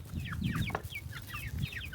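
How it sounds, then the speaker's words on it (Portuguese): A hen and her chicks cluck and peep steadily close by, with dense overlapping high chick cheeps above the hen's low clucks and no talking. "Tem essa galinha, tem esse pinto e tem esse outro ali."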